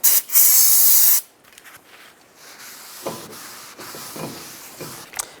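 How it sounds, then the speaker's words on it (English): A sharp aerosol spray of brake parts cleaner onto a brake rotor of a 2005-15 Nissan Xterra hisses loudly for about a second, then stops, followed by quiet rubbing and handling noises. "take a little brake parts cleaner, spray it down, and wipe it with a rag"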